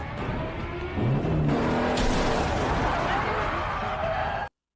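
Cars in a tense chase roar past, with engines revving, a brief tire squeal and steady loud road noise throughout before an abrupt cutoff.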